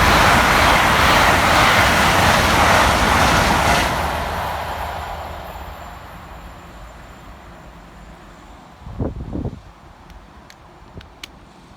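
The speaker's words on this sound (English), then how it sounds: "Passing fast for Great Western Railway under threatening skies is 800 313, working 1 Charlie 12 from London Paddington through to Bristol Temple Meads." Great Western Railway Class 800 unit 800 313 passing fast through Taplow station on the London Paddington to Bristol Temple Meads line: a loud broadband rushing roar that fades away over several seconds, followed by a brief thump.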